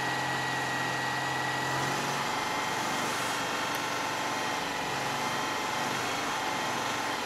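A car engine runs in the snow after a cold start, giving a steady, smooth idle hum at moderate loudness that continues without a break and with no talking.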